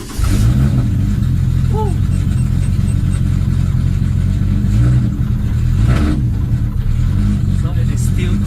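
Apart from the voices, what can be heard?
Toyota 2JZ-GE engine starting and revving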